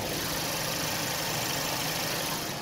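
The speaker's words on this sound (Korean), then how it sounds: "영상으로 엔진 소음 한번 담아보도록 하겠습니다." A Renault Samsung SM6 gasoline midsize sedan idling with the hood open, heard up close as a quiet, smooth, even engine hum with a faint steady whine and no other noise.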